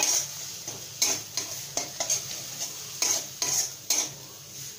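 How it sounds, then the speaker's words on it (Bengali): A spice paste of red chilli powder with a splash of water sizzles in oil for pea dal muithya, with a spoon scraping the pan in a regular stirring rhythm over the steady fry, close and loud. "এখন আমি এটাকে ভালো করে কষিয়ে নেব।"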